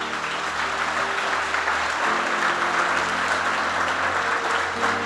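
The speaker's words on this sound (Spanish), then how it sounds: "Dale un fuerte aplauso al Señor Jesús." A church congregation gives loud, sustained applause at a sermon, a dense continuous roar of clapping over a low organ-like drone.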